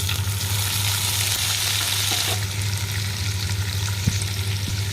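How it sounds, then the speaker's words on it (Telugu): Cumin seeds and cashews fry in hot oil in a pan for jeera rice, giving a steady, loud sizzle with a few faint clinks of stirring, and no talking. "ఈ విధంగా అయితే జీలకర్ర అంతా వేసేసుకొని ఒకసారి బాగా ఫ్రై చేసుకోవాలండి"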